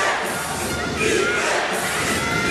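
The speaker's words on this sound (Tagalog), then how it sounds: "Grabe, napakalakas ng pag-cheer ng fans ng Quezon." Loud, sustained roar of basketball fans cheering for Quezon during an MPBL South Division final game against Biñan, a dense crowd noise that swells slightly midway and stays continuous throughout.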